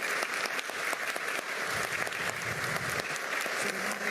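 Continuous applause for a retired police general receiving a decoration in the grand dining hall of Peru's Government Palace, a moderately distant crowd clapping evenly with a faint murmur beneath.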